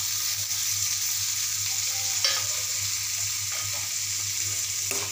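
Finely chopped tomato frying in cooked masala for a Nagpur-style pumpkin bhaji, a steady close sizzle over a constant low hum with a few faint utensil clicks.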